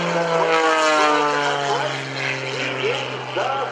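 Oracle Challenger 3 aerobatic propeller plane flying inverted at an airshow, its engine droning steadily and fairly loud, pitch shifting slightly as it maneuvers, with an announcer talking over it.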